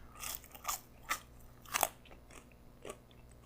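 Sweet and sour beef is bitten and chewed close up, giving several distinct crunchy bites at irregular intervals with softer chewing between them, alone and without talk.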